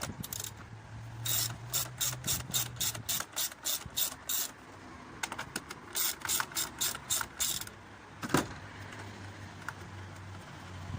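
A ratchet clicks rapidly in close bursts while undoing two 10mm bolts on a 2003 Ford Fiesta's air filter housing, with pauses between runs of clicking and one sharper knock.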